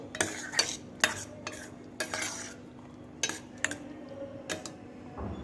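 A spoon stirs cooked spinach and corn curry inside a pressure cooker, with sharp metallic scrapes and clinks arriving in irregular bursts against a low steady background hum, close and fairly loud, with no talking.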